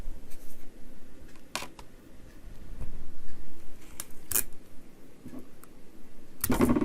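Paper is folded flat inside a manila folder, giving soft rustling and scraping with a few sharp crinkles and a louder crunch at the end, all close by with no voices.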